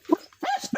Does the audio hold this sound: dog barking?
yes